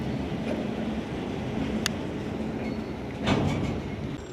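A small train passes near an underpass along a road, heard as a steady broadband rumble with a louder swell of rattling near the end. No talking.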